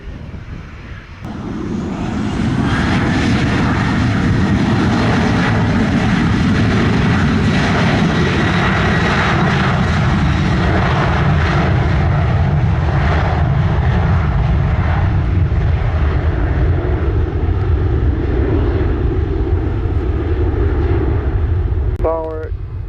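Sunwing 731 airliner at Sangster International Airport, Montego Bay, Jamaica, spools up its jet engines for takeoff on runway 07, a loud sustained roar building quickly and holding steady, with a brief radio-style voice near the end.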